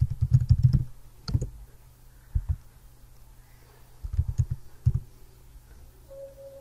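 Computer keyboard typed on while a query name is entered in a database program, in several short bursts of quick clicks separated by pauses, close and fairly quiet.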